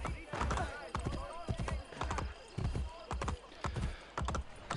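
A stolen guard's horse gallops in Assassin's Creed Brotherhood, with steady, repeated hoof clip-clops and an occasional whinny, close and fairly loud under someone talking.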